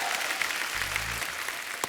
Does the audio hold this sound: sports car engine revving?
no